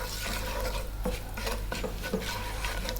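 Bay leaves and cumin seeds hit hot oil above medium heat for a Bengali fish curry, giving a steady crackling sizzle with scattered sharp pops and a few utensil clinks. No voices.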